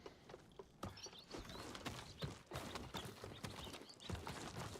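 Horse hooves clip-clop in the Ghost of Tsushima video game, an uneven run of soft thuds and taps that carries on steadily at moderate volume, with no talking.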